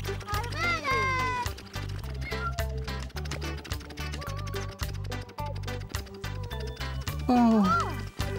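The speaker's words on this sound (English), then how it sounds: "Oh, it's little black cat." A cartoon cat meows a couple of times, rising and falling cries over a bouncy musical backing with steady thumping beats.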